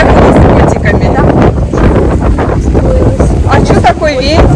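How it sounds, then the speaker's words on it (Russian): Strong wind on a beach buffets the microphone in loud continuous gusts, with people talking over the roar. "А что такой ветер?"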